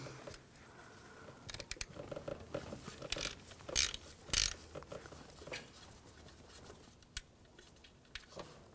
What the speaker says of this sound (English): Using a 6mm hex socket, I'm going to take these bolts out that are on this shield.